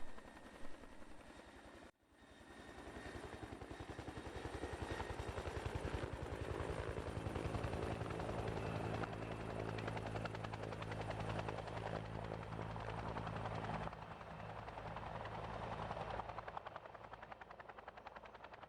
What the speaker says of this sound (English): A thunder of rotors, a streak of water,